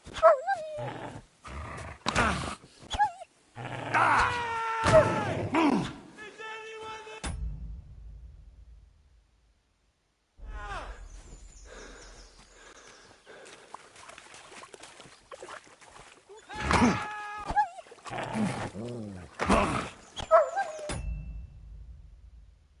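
A dog in the video game Kingdom Come Deliverance 2 gives loud bursts of barks, yips and whimpers in bunches, with a quiet gap partway through.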